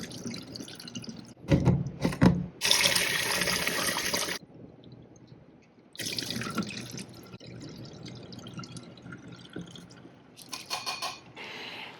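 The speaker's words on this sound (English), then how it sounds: "I rinse and wash the gandum under the running tap about 4 to 5 times" Wheat berries being rinsed under a running kitchen tap, with bursts of gushing water alternating with quieter gaps, drips and sloshing as the grains are swirled and the water poured off, all close up.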